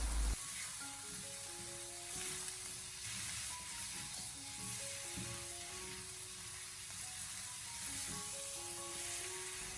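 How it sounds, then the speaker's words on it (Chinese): Chicken pieces with ginger and garlic stir-fried over high heat, a constant loud sizzle and hiss with occasional spatula scrapes in the wok, no one speaking. "然后再继续开大火给它快速的翻炒"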